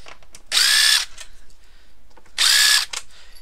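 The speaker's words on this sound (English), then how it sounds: "So let's remove the green screws." Two bursts from a power driver removing T9 Torx screws from an Xbox One S console, each whirring about half a second, loud and close, with quiet handling sounds between them.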